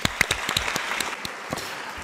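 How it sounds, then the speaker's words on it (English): Audience members at a UN commemoration event on the Rwanda genocide clap for themselves, a fairly thin round with several distinct sharp claps early on that thins out into scattered, fading applause. "I think you also need to clap for yourselves."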